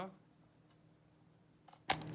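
A Samsung AF 450D autofocus film camera fires its shutter, one quiet sharp click and whir after a faint preceding tick, close up in a hushed room.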